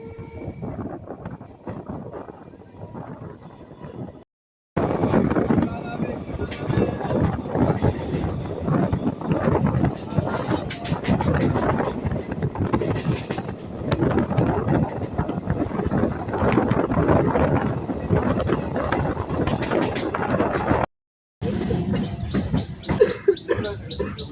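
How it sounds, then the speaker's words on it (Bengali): A moving train pulls out of Mankundu station on the Bally to Bandel line, producing a loud continuous rumble and rattle with heavy wind buffeting on the microphone and two brief dropouts. "ট্রেন এখন মানকুণ্ডু স্টেশন ছেড়ে বেরিয়ে যাচ্ছে"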